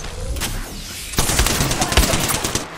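Rapid gunfire bursts from the Apex Legends video game, with a dense automatic rattle that grows louder partway through and continues without pause.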